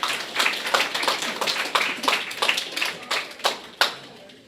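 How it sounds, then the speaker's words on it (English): Applause from the audience after a talk by Dr. Peter Schubert, a small group's hand clapping with distinct individual claps, rhythmic at first and thinning to a few final sharp claps. "Let's give a round of applause for Dr."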